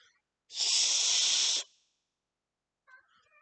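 A house cat lets out one sharp, breathy hiss lasting about a second, close by, with near silence on either side.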